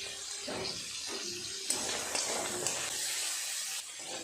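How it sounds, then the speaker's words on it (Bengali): Crabs frying in hot oil with a pinch of salt and turmeric, giving a steady, fairly loud hiss and sizzle with occasional sharp pops near the microphone, no voices. "এই তেলের উপরে কাঁকড়াগুলো আগে ভেজে নেব"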